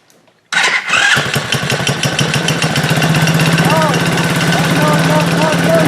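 A kids' 50cc ATV engine catches after a quiet moment and settles into a loud, close, rapid putter, revving unevenly with a buzzy, raspy exhaust note for several seconds.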